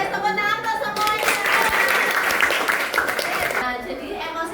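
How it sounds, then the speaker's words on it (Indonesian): Children in a classroom break into a burst of lively applause lasting a few seconds, with overlapping voices of kids and a teacher's speech before and after. "Oke, wes tepuk tangan tuh semuanya."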